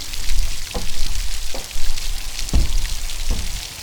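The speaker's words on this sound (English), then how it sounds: "Raining." Rain patters steadily on the steel roof of a narrowboat, a close, dense hiss of drops with occasional heavier single drips striking the surface.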